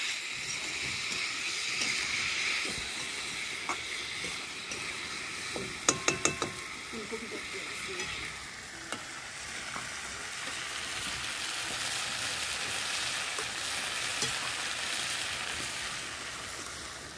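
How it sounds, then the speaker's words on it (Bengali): Vegetables with cauliflower and tilapia fish are stir-fried in a pan, a faint continuous sizzle with soft intermittent scraping and a brief burst of clattering utensil knocks near the middle. "নাড়াচাড়া করে ভালো করে একটু কষিয়ে নিই, তারপরে জল দেবো"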